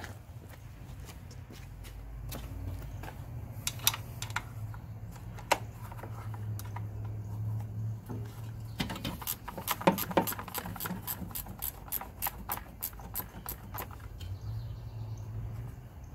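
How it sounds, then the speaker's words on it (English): Ratchet clicks from a 3/8 ratcheting wrench loosening shroud bolts on a Murray lawn tractor with a Briggs and Stratton engine, heard as scattered bursts of sharp, quick clicking over a steady low hum, fairly close. "I got a ratcheting 3/8"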